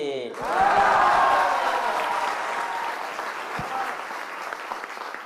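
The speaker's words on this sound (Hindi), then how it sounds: "चलो बच्चा लोग बजाओ ताली" A classroom of students breaks into loud applause that swells quickly and then keeps going as dense clapping and crowd noise, with voices mixed in.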